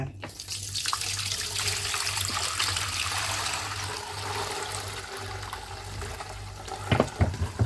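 Fermented green grape wine pours through a strainer in a steady splashing, trickling stream that runs continuously for several seconds, ending with a few sharper drips and clinks.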